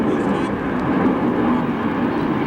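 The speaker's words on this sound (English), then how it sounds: "doesn't like hitting with a plane going by overhead" Airplane passing overhead during a 1996 televised Major League Baseball game, a broad, loud, steady engine roar that fills the whole stretch.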